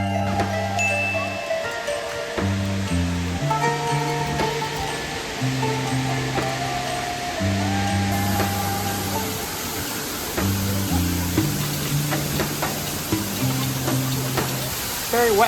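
Waterfall at Silver Falls, Oregon, on a hot, wet hiking trail, giving a steady broadband rush of falling water that runs throughout beneath a layer of background music.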